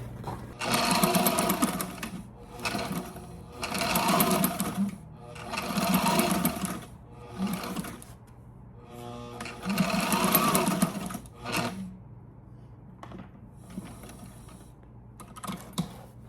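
A sewing machine stitches custom fabric hatch covers for an Irwin 52 sailboat, running in several separate bursts of rapid mechanical whirring with short pauses between them and a low steady hum underneath.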